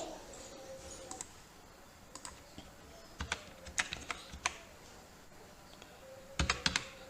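Keys on a computer keyboard click in short scattered bursts while a one-time passcode is entered, near and fairly quiet over low room hiss, with no talking.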